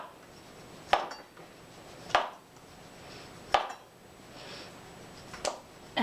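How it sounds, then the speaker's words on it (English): Parmigiano Reggiano shaved with a cheese knife, four sharp scraping strokes spaced about a second apart, each a crisp short rasp over a quiet kitchen background. "I'm gonna shave some pieces off with my cheese knife here."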